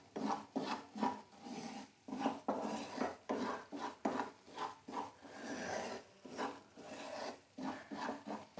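Semolina is roasted in ghee in a pan over a low flame, with a spoon scraping and rubbing against the pan in a steady rhythm of repeated strokes, close and quiet.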